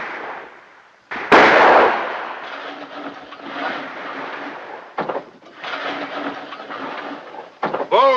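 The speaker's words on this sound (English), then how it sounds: "I always wet my sights when I'm fixing to do some shooting." Rifle shots at an army shooting range ring out as a few sharp loud cracks with rumbling decay, spaced irregularly over quiet outdoor background.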